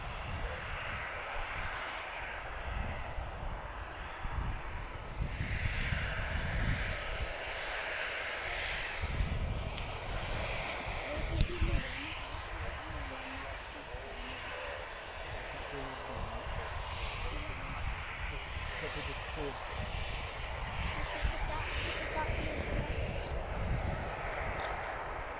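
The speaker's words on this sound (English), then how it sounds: "And the first of those TUIs has just landed." A TUI airliner arriving at an airport, its engine roar steady and fairly distant with broadband rumble and whine through the whole stretch, while a voice talks intermittently over it.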